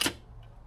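A single sharp click from a bus's idle-setting system, close and brief, followed by a faint fading tail and low background hum.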